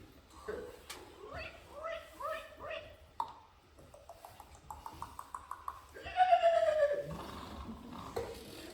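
A human voice imitating a horse neighing, a rising and falling whinny with a sharp squeal near the end, mixed with bursts of speech in a stage play performance.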